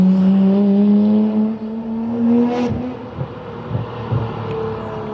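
A tuned GTR with a full downpipe turboback exhaust and rear muffler passes by at close range. It gives a loud droning rumble that swells and fades, with a few crackles as it goes.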